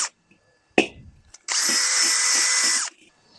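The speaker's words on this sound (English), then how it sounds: "blasted out with a wire brush on a drill, mostly" After a couple of sharp knocks, a power drill spins up with a harsh, high whirring scrape of a wire brush cleaning out a crusty suspension arm of a 1971 Toyota Celica for about a second and a half, then stops.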